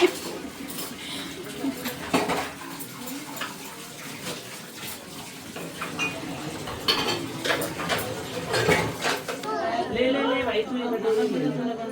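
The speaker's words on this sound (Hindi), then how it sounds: "दोनों लोग बर्तन धुल रही हैं।" Two women wash dishes and utensils under running tap water, with steady splashing and occasional clinks of metal pots and cutlery, while voices chatter in the background throughout.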